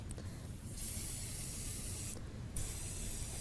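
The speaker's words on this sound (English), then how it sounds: "And then we're going to go ahead and just spray our pan" Canola oil misted from a pump spray bottle onto a pan, two soft hissing bursts, the first longer and the second shorter, close and fairly quiet with no talking.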